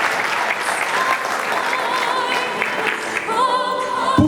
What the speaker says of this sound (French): Des chauds applaudissements,